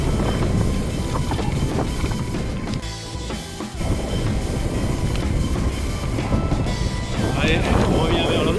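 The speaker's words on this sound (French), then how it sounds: "De nouveau du vent." Steady wind buffeting a microphone outdoors on a route toward the ocean in southern Gironde, a continuous loud rumble that briefly eases midway and then returns as strong as before.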